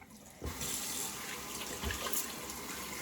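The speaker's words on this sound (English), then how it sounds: "Rinse off my hands real quick." Tap water runs steadily as hands are rinsed in a sink while shaving, starting abruptly and continuing as a close, even splashing rush.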